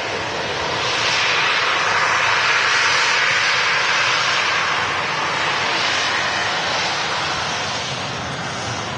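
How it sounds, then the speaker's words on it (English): A Jet2 Boeing 737-800 airliner takes off at Manchester Airport, its loud jet engine roar holding steady and broad throughout, swelling slightly near the middle and easing a little at the end, with no voices over it. "Jet 2, 737-800 in a .com scheme next to take off"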